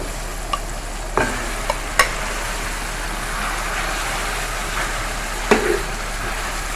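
Chicken goes into a hot pan for a desi chicken curry, giving a steady broad sizzle with a few sharp clinks of a spoon against the pan, close up and without speech.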